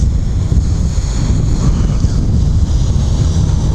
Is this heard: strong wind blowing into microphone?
yes